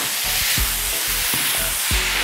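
Pork for menudo sautés toward light brown in a pan, a steady close-up sizzle with rhythmic scraping thumps of stirring every half second or so.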